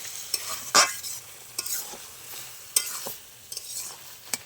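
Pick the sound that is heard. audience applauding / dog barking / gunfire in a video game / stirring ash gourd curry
stirring ash gourd curry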